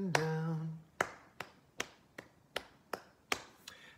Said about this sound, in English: let's clap the rhythm and sing the song